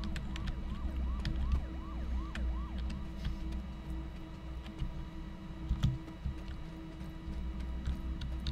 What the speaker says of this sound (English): I hear police cars.